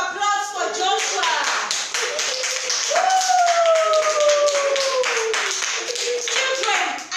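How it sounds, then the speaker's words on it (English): Children clap and cheer at a birthday party cake cutting for a boy turning nine, with steady close hand taps, excited voices and a rising shout over the clapping. "Give a round of applause for Joshua"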